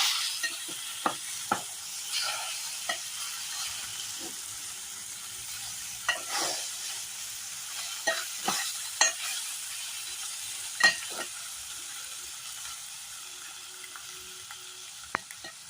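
Eggs and onion fry in a pan with a steady low sizzle, broken by a series of irregular scrapes and taps as the food is turned over. Moderately close, with no speech.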